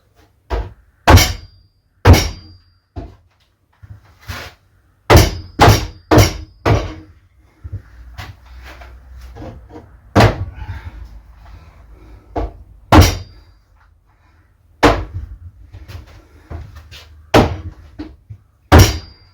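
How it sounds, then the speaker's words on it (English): Repeated sharp thwacks ring out at irregular intervals, loud blows on wood struck with the body of a battery drill used as a hammer, with short pauses and some quieter knocks between. "This battery drill is also a hammer."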